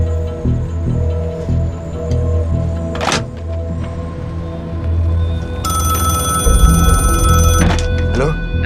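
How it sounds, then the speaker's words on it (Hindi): A telephone rings repeatedly in a tense office scene, its bell cutting through a dense film soundtrack with background music and movement; near and loud. "वही दानियाल खान का फोन है"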